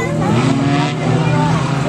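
Race cars in the last heat race of the evening on a Western Kentucky dirt track, engines droning loud and steady with shifting pitch as they pass, under a announcer's talk.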